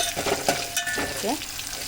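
Green chilies fry in oil in a home kitchen while being stirred in the pan. A soft, close sizzle runs under brief scraping stir sounds for a couple of seconds.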